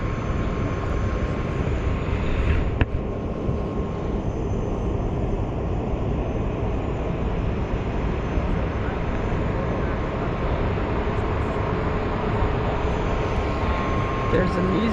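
An EasyJet jet airliner at Glasgow Airport gives off a continuous loud roar that fills the whole stretch, with a sharp click near the start and a steady hum underneath.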